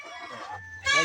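A young native rooster (stag) clucks nearby in a rural backyard flock, with a low rumble under its calls and a louder burst of clucking at the end.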